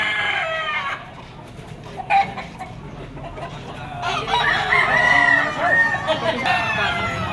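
A bull stag gamefowl rooster of Sweater Gilmore bloodline crows at a market in Padre Garcia, Batangas, its drawn-out call rising over someone talking and busy background chatter.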